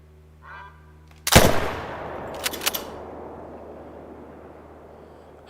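A single loud rifle shot fired at a buck in theHunter: Call of the Wild on a Scotland map, a sharp close crack followed by a long rolling echo, with a couple of faint snaps after and a quiet ambience before.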